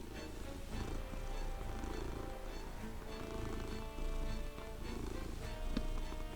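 A cat purrs steadily and low in the background, faint beneath the music and sound effects of a fighting game.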